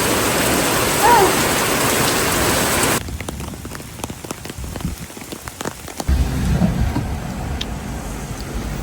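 Cold rain pours steadily onto surfaces in a lake park beside a pavilion, a dense continuous hiss that drops quieter mid-clip before returning.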